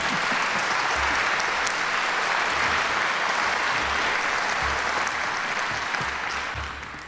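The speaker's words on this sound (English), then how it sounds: "Yes, you may applaud." A large audience at a local election debate applauds steadily, a dense wash of clapping that stays loud throughout and starts fading at the very end.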